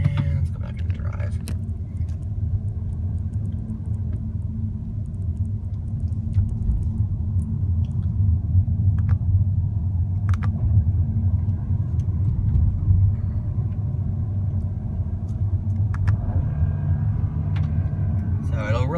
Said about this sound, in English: do a double tap into second and you'll see what I'm talking about with the rev matching